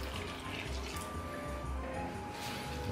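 Water poured into a dough mixture of flour, semolina and yeast for pizza dough, a steady close splashing and dripping stream that runs for a few seconds without speech.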